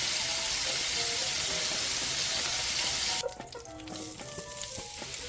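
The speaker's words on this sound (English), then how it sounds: "now we're gonna pan fry the patties" Beef patties sizzle and spit steadily in a hot pan for a homemade copycat Big Mac, a loud dense frying hiss that cuts off abruptly partway, leaving quieter kitchen clatter and faint bubbling.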